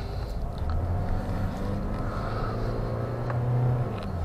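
A 2019 Mercedes A 180 CDI diesel engine hums from inside the cabin, a low steady drone with a faint rise in revs toward the end, fairly quiet and without talk.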